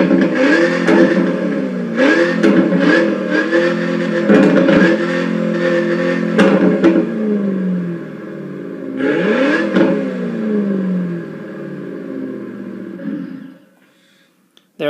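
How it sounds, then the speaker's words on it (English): Supercharged V8 engine sound from a DR!FT Racer toy car, rendered as 920 hp engine audio: repeated rising revs and blips with a whirring supercharger whine, loud and close, fading out at the end. "That was the supercharger."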